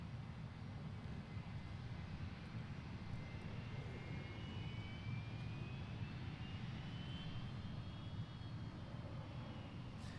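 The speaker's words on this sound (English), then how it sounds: "I don't think that's Pip's private jet" A private jet takes off from Boeing Field, its engine a steady, distant rumbling roar with a faint rising whine that holds through the whole stretch, no talk over it.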